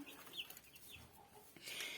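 Chicks peep and chirp inside a small heated brooding house, a few short high calls scattered over a soft background, growing busier toward the end.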